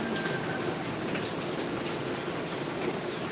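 Steady rain patters continuously on a surface, a dense even hiss with no breaks and no voices.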